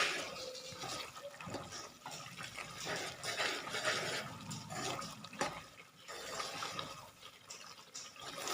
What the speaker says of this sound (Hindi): जिस पानी में हमने चने उबाले थे वही वाला पानी हमने इसमें शामिल कर दिया है 1 कप भर के